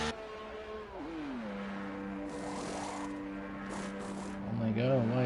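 Race car leaving the pit lane in a racing video game at the Hungary track, engine tone sliding down then holding steady, quiet under a commentator's voice.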